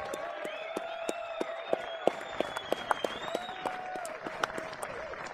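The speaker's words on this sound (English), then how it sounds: "nice round of applause for our runner-up, Mr. Christopher Tevez." A crowd applauding steadily at the final of a 10-ball pool world championship, dense clapping with a few louder individual claps standing out, sustained for several seconds.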